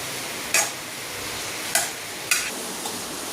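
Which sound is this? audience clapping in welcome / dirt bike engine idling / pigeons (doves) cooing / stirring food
stirring food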